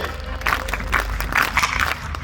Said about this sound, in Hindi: तालियों की आवाज सुनाई देनी चाहिए